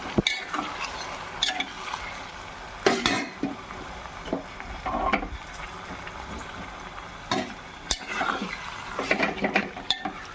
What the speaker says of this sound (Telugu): మటన్ వేసుకొని ఒక్కసారి తిప్పుకుందాం.